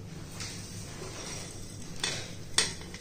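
Spoon scraping roasted soya mixture from a hot kadai onto a plate, a few soft scrapes and clinks with a sharper metallic clatter near the end, close and alone.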